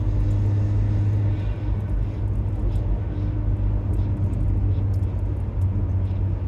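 Steady low exhaust drone fills the closed cabin of a 2009 Acura RDX cruising in 4th gear with the windows up, a constant hum with faint road rumble and no talking.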